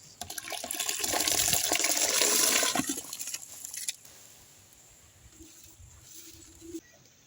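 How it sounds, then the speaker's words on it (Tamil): Raw white rice poured into a pot of water for cooking in a village kitchen: a busy splashing and pattering rush lasts about four seconds, then settles into faint trickles and quiet background noise. "அரிசி போட்டாச்சு வேகட்டும்"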